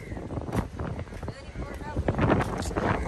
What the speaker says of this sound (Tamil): காற்று வந்து சும்மா அப்படி பயங்கரமாக தான் அடிக்குது